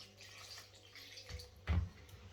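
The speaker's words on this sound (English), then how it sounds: "pour a little bit of water in there" Water is poured into a container while baking dog treats, a short soft splash and trickle that swells briefly near the end, close by and fairly quiet against a faint background hum.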